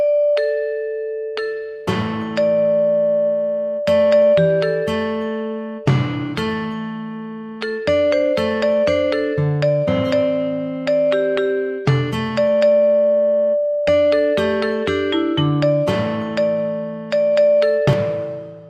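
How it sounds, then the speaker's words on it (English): Balinese gamelan ensemble playing bright, ringing metallic percussion in interlocking phrases, with sustained shimmering tones and repeated strong accented strikes, loud and close, no voices. "Let's now hear an example of Balinese gamelan."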